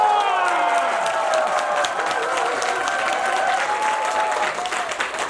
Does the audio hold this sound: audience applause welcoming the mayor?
yes